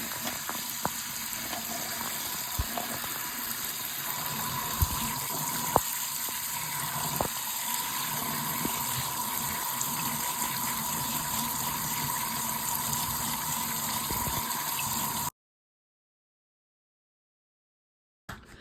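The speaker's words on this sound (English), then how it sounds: "now we're going to get these cranberries rinsed off" Tap water runs steadily over fresh cranberries being rinsed in a kitchen sink, a continuous close gush with small clicks as the berries are moved about, no talking, ending in a few seconds of silence.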